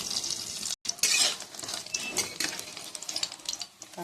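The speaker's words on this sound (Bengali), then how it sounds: "কাঁকড়া ভাজা হয়ে গেছে" Crabs fry in oil in a pan over a low gas flame with a constant sizzle, broken by close scraping and clinking of a utensil against the pan, with one brief dropout.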